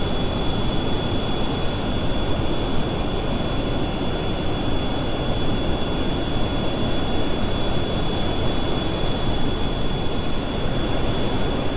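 Jet aircraft engine in the video game Kerbal Space Program during a night flight, a loud, continuous, even roar with a high whine layered on top and no break throughout.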